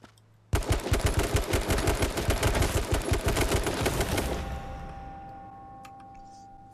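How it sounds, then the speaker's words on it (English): Rapid automatic gunfire from the battle royale video game H1Z1 rattles loudly in one sustained burst for about four seconds, then fades into a ringing tail and quieter background sounds. "I hear shots and I run to them."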